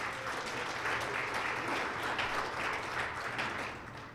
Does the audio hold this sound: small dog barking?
no